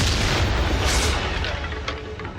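A Descendo spell slams down in Hogwarts Legacy with a heavy, booming impact, a loud burst followed by rumbling debris and a couple of sharper cracks fading over about two seconds.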